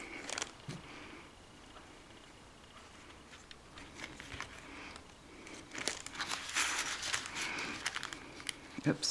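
Paper envelope hinge being folded and creased by hand: soft crinkles and papery rustles come in short bursts, growing busier toward the end, under faint quiet talk.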